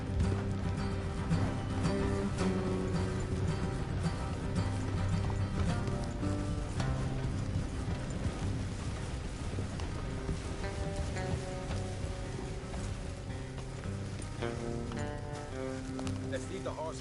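Rhythmic clip-clop of horses trotting in a video game, hooves thudding steadily beneath game music, with voices speaking over it.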